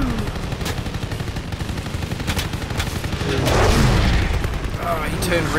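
Machine gun fire from a WWII aircraft in a dogfight video game, a steady, dense rattle of rapid shots running throughout beneath engine drone, swelling louder near the end.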